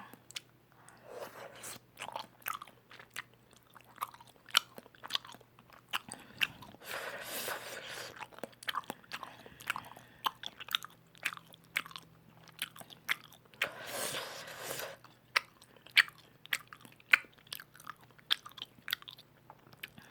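Close, crunchy chewing and biting of tteokbokki, the Korean spicy rice cake dish, in a steady run of wet mouth sounds with a few louder bursts, heard alone.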